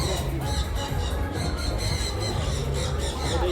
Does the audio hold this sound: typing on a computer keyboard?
no